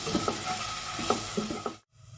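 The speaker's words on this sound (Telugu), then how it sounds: "అల్లం వెల్లుల్లి పేస్ట్ కూడా పచ్చివాసన పోయే వరకు మంచిగా ఫ్రై చేసుకుందాం" Ginger garlic paste fries in a pan for a mutton curry, a steady sizzle with a few soft stirring scrapes, then it cuts off abruptly near the end before a quieter hiss returns.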